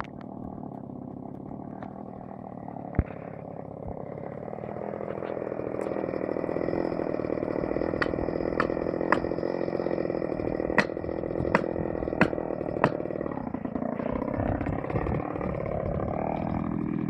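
A chainsaw cutting firewood runs steadily and close, with sharp knocks and taps striking over the engine drone near the end.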